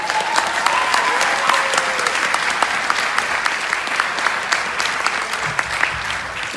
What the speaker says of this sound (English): How about one more round of applause to welcome them?